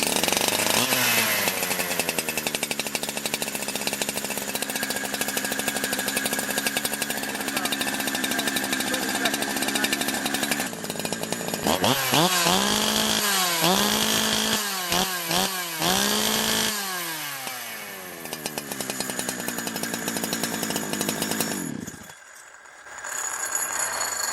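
A Holzfforma G372 chainsaw with a freshly adjusted carburetor runs warm, holding a loud, steady high-revving scream that dips and rises through several blips of the throttle before dropping toward idle near the end.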